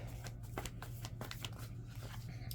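Tarot cards being shuffled by hand give a steady soft riffling and crinkling texture with faint taps, continuous and low in level over a constant electrical hum, with no talk.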